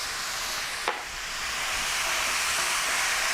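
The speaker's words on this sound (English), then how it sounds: "I'm just going to let that fry off until our mince is nice and brown." Mince frying in a pan, a steady loud hiss of sizzling fat with one brief sharp sweep early on, continuing evenly without speech.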